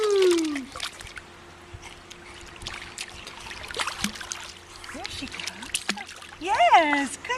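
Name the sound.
child splashing water while swimming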